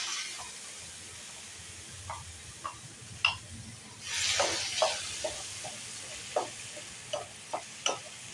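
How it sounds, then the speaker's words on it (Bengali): Chopped onion, garlic, ginger and tomato with whole garam masala frying in a pan, a soft steady sizzle broken by scattered stirring clicks and a brief louder hiss midway. "পেঁয়াজটা চাপা দিয়ে ভেজে নেব।"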